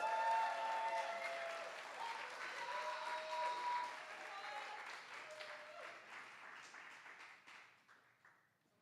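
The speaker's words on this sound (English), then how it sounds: "Can I get a thunderous round of applause for Caressa, please?" Audience applause for a poet at a poetry slam festival preliminary round, dense clapping that starts loud and gradually thins and fades out over several seconds.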